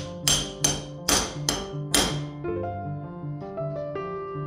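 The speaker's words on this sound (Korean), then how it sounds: "앙카 펀치를 꼽은 다음에, 캉캉 망치로 치면, 세트 앙카 끝이 벌어지면서 시멘트에 강력하게 고정된다" Hammer strikes on a steel anchor punch driving open a set anchor in a concrete wall for a pull-up bar: five sharp metallic blows in quick succession, close and loud, then ringing decay and faint taps.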